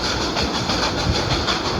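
A train rolls along in the Roblox horror game Choo-Choo Charles, a dense steady rumble and clatter of wheels on rails with a broad hiss, continuous and close with no talk.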